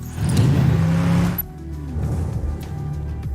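A car sound effect built for a video transition: a loud engine rush and whoosh that swells then cuts abruptly, followed by a lower rumbling tail, close and without talk.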